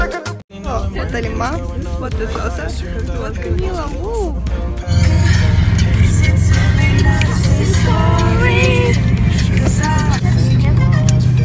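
Car driving to Medeo, a steady engine and road drone rising to a louder constant rumble partway through, with a voice talking over it early on.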